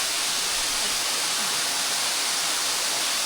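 Falling water pours down a hill in Bangladesh, a dense, continuous rushing hiss heard up close and alone with no voices.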